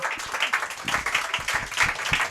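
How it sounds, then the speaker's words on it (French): Audience applause at a public debate in Paris about suspended healthcare workers, a steady patter of clapping from a room of people, moderately loud and continuous, with a few voices faintly mixed in. "donc on peut applaudir Mel."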